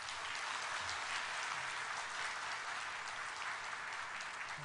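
A church congregation at a Sunday worship service gives a big round of applause during a farewell presentation; continuous, fairly soft and distant clapping runs evenly throughout without pause or speech.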